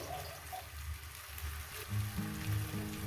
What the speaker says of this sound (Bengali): কিন্তু কোনো সবজি পোড়া দেবে না দু মিনিট কষিয়ে নেব